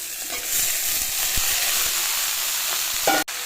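Leafy greens hit a hot pan after fish has been lightly fried, giving a steady, close hissing sizzle with a few light stirring clicks and a brief clatter near the end.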